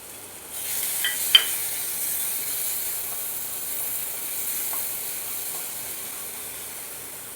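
Coarse crushed green chili thecha dropped into hot oil in a pan, a soft steady sizzle and hiss starting abruptly with a small clatter, then settling into a quiet even frying sound.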